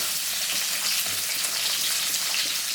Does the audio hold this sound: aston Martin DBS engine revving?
no